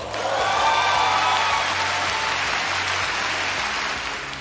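An award ceremony audience applauding, a dense, steady wash of clapping that swells early and then holds evenly, with no voices.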